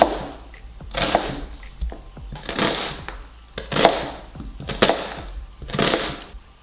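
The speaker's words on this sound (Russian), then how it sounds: "И просто нарезаем полукольцами" A knife makes about six crisp slicing strokes through an onion on a board, cutting it into half rings, close by, at a steady, unhurried pace with short pauses between cuts.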